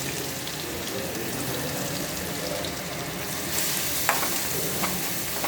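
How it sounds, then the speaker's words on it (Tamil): Onion, ginger garlic paste and fennel seeds sauté in a hot pan with a steady, loud sizzle, and a few brief scrapes of stirring come near the end. "இஞ்சி பூண்டு பேஸ்ட்டு, பெருஞ்சீரகம் போட்டு வெங்காயம் போட்டு தட்டி வச்சுட்டேன். அதையும் போட்டுக்கலாம். நல்லா வதக்கிக்கலாம்."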